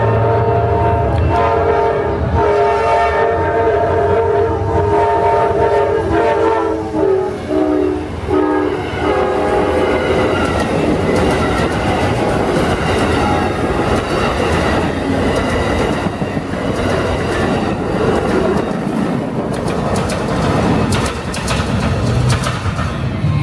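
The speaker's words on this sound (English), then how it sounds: "There it goes, Amtrak train Silver Star 92." Amtrak Silver Star 92 passenger train at a crossing in Plant City, Florida, sounding a long, loud multi-tone horn as it nears, then a heavy rumble and clatter of wheels as it passes close by.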